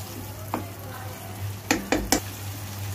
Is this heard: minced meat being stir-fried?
yes